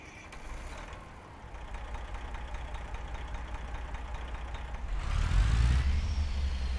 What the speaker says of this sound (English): This truck sounds really, really good.